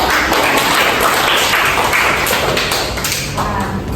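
Audience in a university classroom applauding two students, a dense, steady wash of many hands clapping close by that fades slightly toward the end.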